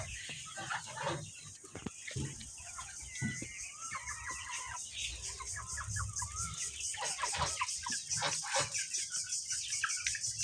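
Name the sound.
layer chickens clucking on a farm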